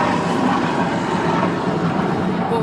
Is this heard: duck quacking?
no